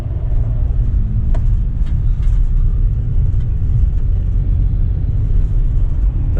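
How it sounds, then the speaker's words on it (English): Large metal shredder running at a scrapyard, a loud, continuous low rumble and grinding drone with faint intermittent clanks on top, heard at a distance without speech. "That's the shredder there."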